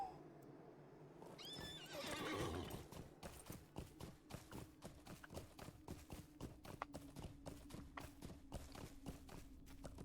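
A horse in a video game gives a loud whinny, then its hooves clip-clop in a quick, steady rhythm as it runs on, close and clear.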